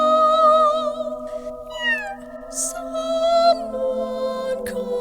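A tabby cat meows from inside a cat carrier, several wavering cries rising and falling over a steady, humming background.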